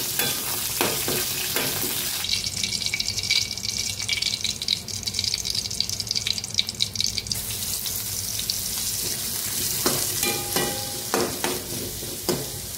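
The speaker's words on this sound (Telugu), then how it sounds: "కడాయి పెట్టుకుని అందులో ఆయిల్ వేసుకుని నీట్గా కర్రీ లీవ్స్, ఇంకా మిర్చి, గార్లిక్ కూడా వేసుకుని మంచిగా సాస్ చేసుకోవాలి" Curry leaves, chillies and garlic fry in oil in a kadai, a constant hissing sizzle with scraping stirs and clinks, a louder bright spell in the middle, close and without talk.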